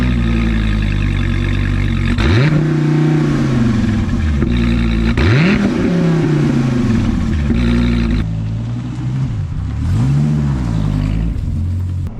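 A 2015 Dodge Viper V10 starts and revs hard, rising and falling in three loud sweeping surges over a deep idle rumble, close and with no talking.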